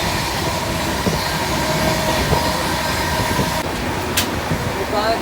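The Dehradun Jan Shatabdi Express, a train running from New Delhi to Dehradun, gives off a steady rumbling and rattling roll heard from inside a carriage, with a faint hiss from air conditioning and a few scattered clanks.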